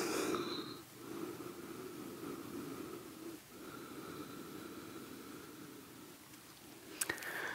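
Slow, deep breathing during a yoga relaxation, heard as a faint, steady airy rush with a couple of brief pauses between breaths and a small click near the end.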